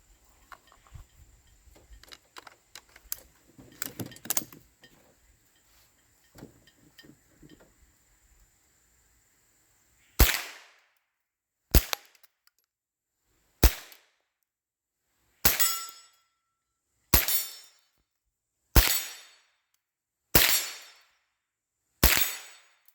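A gun being test-fired lets off eight sharp, loud shots at roughly even intervals, each with a short decay, after quieter handling clicks and clatter.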